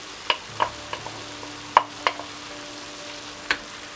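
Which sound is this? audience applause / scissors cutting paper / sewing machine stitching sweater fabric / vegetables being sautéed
vegetables being sautéed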